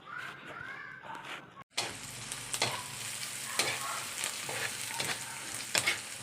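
Tuna pasta is stirred in an oil-coated frying pan, with a sizzle that starts after a brief pause and continues steadily, punctuated by scraping and clattering strokes of the utensil.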